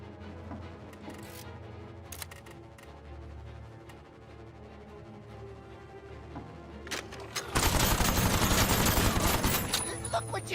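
Weapon fire aimed at enemy vehicles in a video game, heard as scattered shots and clicks under game sounds, then a loud, dense burst of rapid fire near the end.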